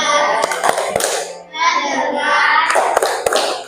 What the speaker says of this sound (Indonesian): Nanti teman-teman tepuk fokus